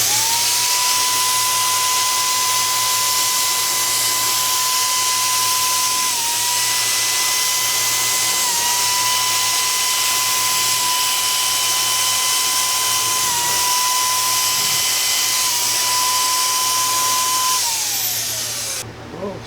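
A Batavia electric HVLP spray gun runs continuously up close while spraying a coat, giving a steady high-pitched motor whine with slight dips before it winds down at the end.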